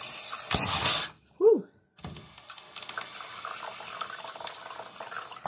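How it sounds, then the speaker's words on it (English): Water is poured into an essential oil diffuser in a short splashing trickle near the start, followed by a brief gap, a small voiced sound and soft handling noises. "So, put a little water in there."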